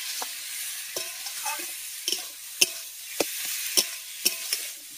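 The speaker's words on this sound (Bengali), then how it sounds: "মশলার সঙ্গে ভালো করে পটল আলু সোয়াবিনটাকে কষিয়ে নেব" Pointed gourd, potato and soybean frying with spices in a pan, a low sizzle broken by a rhythmic series of sharp spatula scrapes and clinks about every half second.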